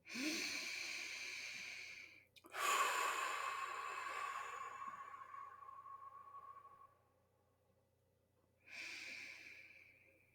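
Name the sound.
deep breathing during relaxation exercise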